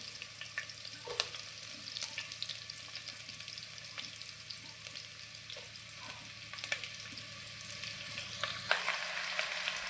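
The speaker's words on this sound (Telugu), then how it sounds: "ఇప్పుడు తాలింపైతే వేసేస్తాం ముక్కలైతే వేసేస్తాం" Tempering spices and chopped vegetable pieces frying in hot oil for sambar, a steady close sizzle with occasional stirring clinks throughout, no talking.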